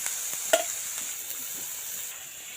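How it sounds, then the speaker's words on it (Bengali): Chopped green chillies sizzle in a hot pan while a utensil stirs them, with a steady soft frying hiss and one sharp scrape of the spoon against the pan. "এরপর কাঁচা লঙ্কা কুচি তুমি তো নিজের স্বাদ অনুযায়ী দুই মিনিটের মতো একটু নাড়িয়ে"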